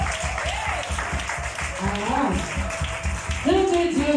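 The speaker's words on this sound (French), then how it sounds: "Est-ce que tu peux acclamer très fort pour le Seigneur?" A church congregation applauds loudly for the Lord during a worship service, steady dense clapping throughout with voices and music rising over it.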